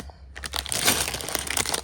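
Plastic parts bag from a LEGO set crinkles and crunches as it is grabbed and squeezed, a close, continuous rustle that starts after a brief quiet moment and runs without talk.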